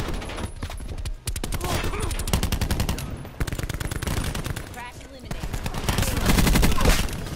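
SMG gunfire in Call of Duty: Black Ops 4 Blackout rattles in rapid sustained bursts with brief pauses, loud and close, mixed with game effects and some talk.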